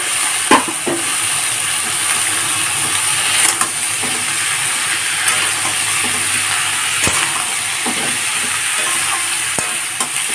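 Bottle gourd pieces fry on low flame in a pan with onion and garlic, a steady loud sizzle and hiss broken by occasional scrapes and clicks of stirring.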